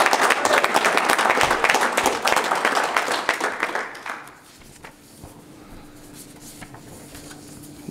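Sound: audience applause at a fire academy graduation

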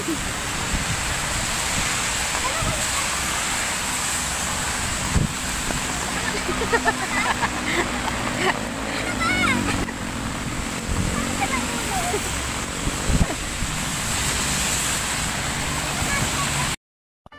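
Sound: heavy rain pouring

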